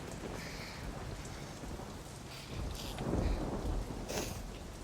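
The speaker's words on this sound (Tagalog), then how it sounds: "Malakas ho ang bagyo sa labas." A heavy typhoon rages outside, with dense, steady rain and low rolls of thunder swelling in the middle. The storm sounds constant and enveloping, with no voices.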